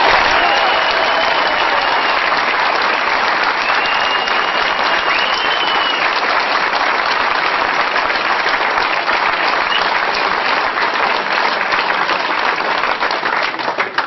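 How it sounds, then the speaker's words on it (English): Audience applause welcoming David Icke to the stage at a speaking event, a loud, dense, continuous wash of clapping from a large crowd lasting about fourteen seconds and tapering slightly at the very end. "please put your hands together and give a warm welcome for Mr. David Icke."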